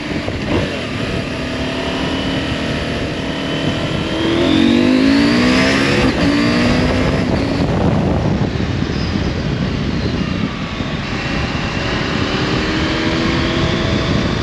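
A Husqvarna Norden 901 motorcycle engine drones steadily while riding, rising in pitch as it accelerates through smooth quickshifted gear changes, with loud continuous wind and road rush throughout.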